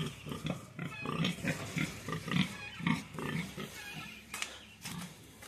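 Pigs on a farm, grunting and oinking in a rapid series of short, close calls that repeat in a loose rhythm, with a faint voice briefly in the background.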